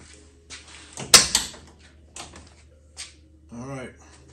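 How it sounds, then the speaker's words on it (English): A Ford Mustang II car door is opened with a sharp latch click and clunk, followed by a few softer knocks and rattles, close by, with a brief voice near the end. "Now you open the door."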